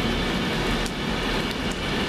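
A Class 158 diesel unit departs Crewe station in heavy rain, a loud continuous rumble with a dense, hissing wash throughout and a few faint higher squeals over it.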